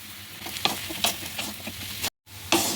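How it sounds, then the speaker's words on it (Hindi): Chana dal roasting in a pan with spices for dal puri: a steady close sizzle with repeated stirring scrapes, a brief gap near the end, and no talk. "सभी मसालों के साथ दाल को भून दीजिए।"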